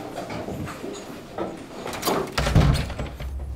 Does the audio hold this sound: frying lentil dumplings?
no